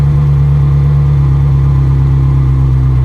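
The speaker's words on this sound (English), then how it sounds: "You're going to hear a little bit of tone change in the humming of the engine." A manual-transmission car's engine hums loud and steady at low revs, a deep continuous drone whose tone shifts slightly as the clutch engages.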